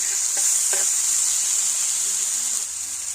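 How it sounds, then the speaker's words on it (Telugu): Tomatoes sizzling in a hot pan as they are stirred, a bright continuous hiss with a few scraping clinks near the start, close and steady with no voices. "టమాటాలు వేసేసుకున్నాం బాగా కలపెట్టేసుకున్నాం"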